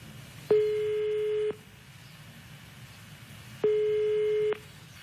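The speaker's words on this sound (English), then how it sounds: "So we are going to call her cell phone. We'll now dial the international number" Ringback tone from a call to an international cell phone number, two long steady tones about a second each separated by a pause of roughly two seconds, clear and moderately loud over faint background hiss.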